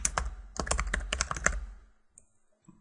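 Quick keystrokes clatter on a computer keyboard, a short close burst of typing that stops after about two seconds and leaves near silence.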